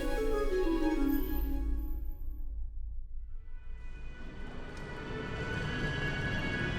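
Airplane in flight gives a steady broad engine roar with a falling whine that fades then swells again, continuous and fairly loud with no voices.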